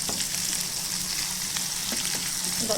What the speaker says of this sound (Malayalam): അപ്പം ഈ രീതിയിൽ വേണം നമ്മൾ ഫ്രൈ ചെയ്തെടുക്കേണ്ടത്